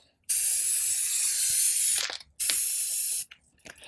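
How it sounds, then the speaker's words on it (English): A spray paint can hisses onto a Nike Free shoe in two bursts, a long one of almost two seconds and then a shorter one, close and sharp with a faint rattle between them. "maybe I didn't use enough spray paint"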